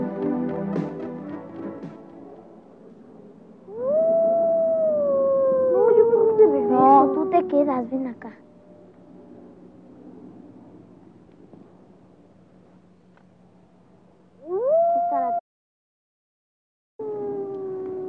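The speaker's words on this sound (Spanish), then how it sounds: "Cuando los perros aúllan, es señal de desgracia." Dogs howl in long, wavering, drawn-out cries, several overlapping, with a short yelp later and quiet gaps between.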